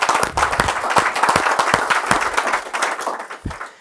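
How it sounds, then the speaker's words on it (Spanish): A church audience claps and applauds steadily for several seconds, dense and fairly loud, with no talking. "Dar un aplauso a Cristo y esto es verdad."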